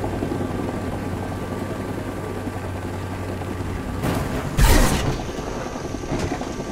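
Rumbling helicopter rotor drone in the game Rising Storm 2: Vietnam, steady and close with a game-like sound mix, broken by a sharp burst near the end.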